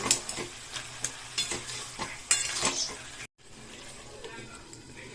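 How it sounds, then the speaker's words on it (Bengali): A spiced vegetable curry with ground masala and a splash of water being stirred in a pan, scraping and clattering strokes over a soft sizzle, close by, with a brief cut partway through. "এখন ভালো করে নাড়াচাড়া করে ঢেকে রাখবো।"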